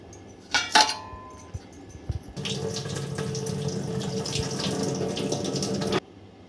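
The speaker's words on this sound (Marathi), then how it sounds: "स्वच्छ दोन पाण्याने मी हे धुवून घेते चांगलं" Running tap water pours steadily into a sink while soaked moong sprouts are rinsed, preceded by a few brief clinks and splashes, then a continuous close, even gush that cuts off near the end.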